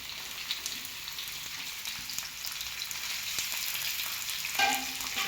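Cooked rice and peas roasting in a pan, a steady sizzle with light scraping stirs and a brief clatter near the end, no voices.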